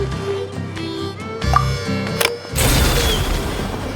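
A firecracker bangs in the video game Genshin Impact, a sudden loud burst that sets off a crackling wash over soft game music.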